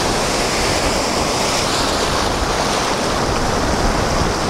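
Ocean waves wash up the beach at Australia's Sunshine Coast in a loud, continuous roar of surf, with wind buffeting the microphone throughout and no voices.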